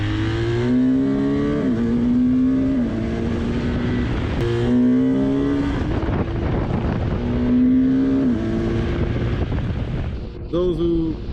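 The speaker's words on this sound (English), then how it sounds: "If we give it gas at high revs," A BMW R1250GS motorcycle engine revs hard through rising and falling pitch sweeps, buffeted by wind noise, with the revs dropping off near the end.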